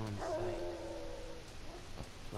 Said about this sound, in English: What's that dog?